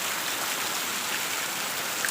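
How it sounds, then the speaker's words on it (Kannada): Steady, dense hiss of rain pouring down continuously, fairly close, with no voices. "ತುಂಬ ಮಳೆ ಇತ್ತು"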